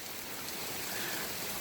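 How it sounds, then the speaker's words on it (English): Heavy rain pouring outside in Southern Virginia, a dense, even hiss of falling water with no breaks, moderately loud and steady, with no voices. "it is pouring rain right now"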